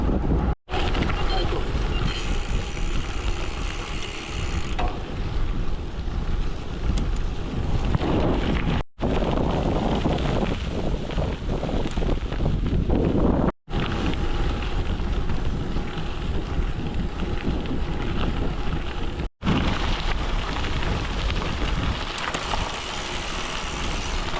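Heavy wind buffets the microphone during a long road ride around Poznań, a loud continuous roar riding into a headwind along asphalt and forest roads, broken by a few sharp dropouts.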